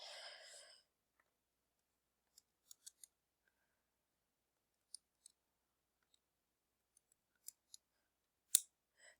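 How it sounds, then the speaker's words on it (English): Calculator keys being typed for a math problem: scattered faint, sharp clicks at irregular intervals in a quiet room, after a brief burst of sound at the very start. "I want to go ahead and type this into the calculator."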